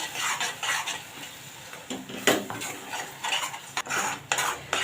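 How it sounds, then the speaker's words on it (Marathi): A spoon scrapes and stirs ground masala paste through hot oil in a pan for vegetable korma, with repeated clinks against the metal and a faint sizzle underneath. "आता यामध्ये जे आपण वाटण वाटलं होतं ते घालणार आहोत मिक्स करून घ्यायचं आहे"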